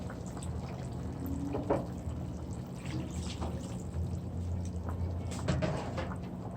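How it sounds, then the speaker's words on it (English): Half a cup of water is poured into a pot of brown stewed turkey wings with herbs and seasoning, a close, soft splashing trickle with a few brighter drips and clinks, no talking. "add half a cup of water to that."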